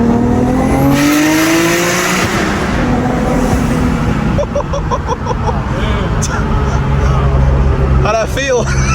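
A tuned Nissan Skyline with an RB26 engine accelerates hard on a street, its engine note climbing loudly, with excited voices over the noise and a brief squeal near the end.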